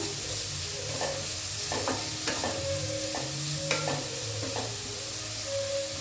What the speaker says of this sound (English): Add the onions and saute it till golden brown.